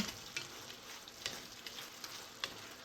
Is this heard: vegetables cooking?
yes